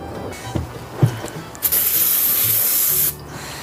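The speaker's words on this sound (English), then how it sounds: "And then grease it up." Grease sprayed from an aerosol can onto the rear brake of a 1964 Honda 90 CT200, a loud steady hiss lasting about a second and a half after a few soft clicks and handling noises, close up.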